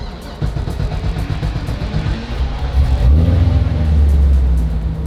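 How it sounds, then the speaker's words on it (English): Steady Corvette C6 sports car engine rumble up close, swelling as it accelerates midway, with a continuous low drone and road noise. "so we can test drive the C6 Corvette"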